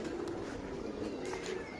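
Soft cooing of racing pigeons drifts in over a low, steady background hum.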